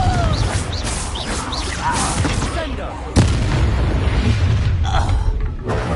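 A Confringo explosive spell goes off during combat in Hogwarts Legacy, a loud, sharp blast midway through busy fight effects, whooshing spell sounds and clashes, with game voices also heard.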